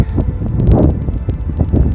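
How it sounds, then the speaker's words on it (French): Outdoor wind gusts buffet the microphone in a loud, continuous rumbling roar, with no voices heard. "Il y a du vent quand même."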